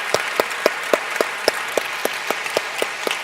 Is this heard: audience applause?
yes